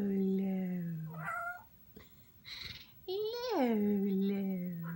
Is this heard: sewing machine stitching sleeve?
no